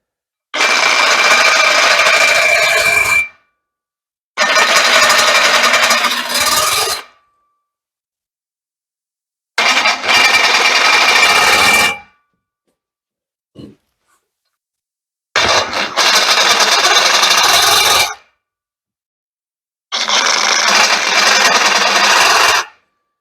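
Power tool cutting notches into a motorhome bumper, heard as five loud bursts of several seconds each, separated by silences, with one short tap in a gap.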